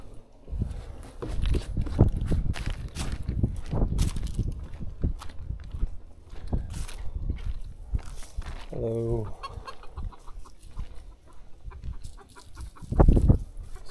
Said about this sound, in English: Young chickens.